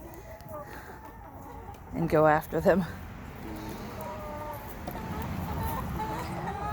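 Backyard chickens cluck in a coop, with bigger hens among smaller ones; a brief burst of agitated clucking rises in the middle under a person's ongoing speech.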